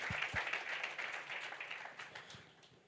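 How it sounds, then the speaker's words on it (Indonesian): Church congregation clapping hands together during a worship service, a dense steady patter of applause filling the room that fades slightly toward the end, with a few low thumps underneath. "Ayo tepuk tangan dulu biar nggak tegang."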